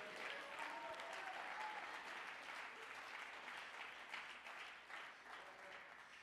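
A church congregation claps during a Sunday sermon, steady dense applause for several seconds, fairly faint and distant, with some voices mixed in.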